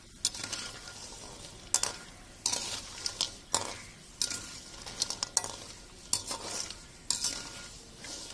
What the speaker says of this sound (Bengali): এইভাবে অল্প আঁচে ভেজে নিতে হবে।